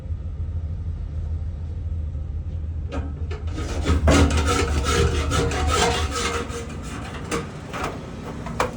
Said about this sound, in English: By scraping the grease, you remove the excess buildup